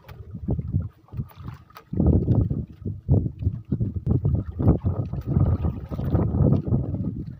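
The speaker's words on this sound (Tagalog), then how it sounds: "Grabe lakas ang hangin mga idol." Strong wind buffets the microphone in loud, rumbling gusts that roar and pause irregularly, with a brief lull early on.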